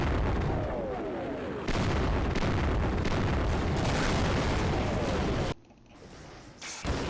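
An enemy in a video game fires at the player, a dense run of loud gunfire and booming blasts that fills the clip, then cuts off abruptly near the end before faint game sound returns.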